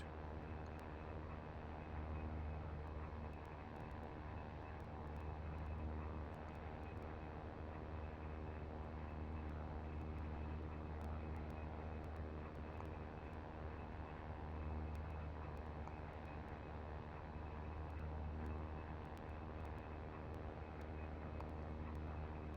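Steady, loud drone of an A-29B turboprop engine at takeoff power in a flight combat game, a continuous low hum with even rumble running throughout and no voices.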